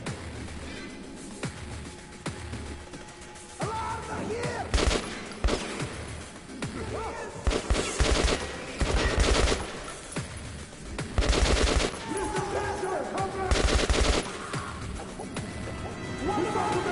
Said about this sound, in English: I just have my RPK here in the beginning.